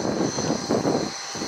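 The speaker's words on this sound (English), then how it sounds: "the capability afforded by the lift fan element of the Pratt & Whitney F-135 turbofan engine." Lockheed Martin F-35B Lightning II with a Pratt & Whitney F135 turbofan at an airshow (RIAT 2019), a loud, steady jet roar with a surging low rumble that dips briefly near the end.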